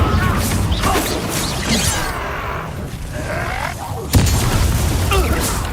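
Spell effects crash and boom through a dense Hogwarts Legacy duel as a fire spell is cast, layered with grunts, whooshes and game music, with a sharp impact burst near the end and voiced character lines around it.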